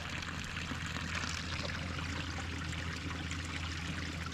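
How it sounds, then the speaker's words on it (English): Water from a mountain spring pipe runs into a trough beside a trail, a faint, steady splashing trickle that carries on without a break and has no voices over it. "Came across a spring right here."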